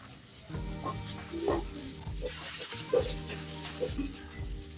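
Chilli powder, chicken masala, coriander powder and garam masala sautéing in a pan for egg masala give a soft sizzle, with light scraping and stirring strokes repeating throughout.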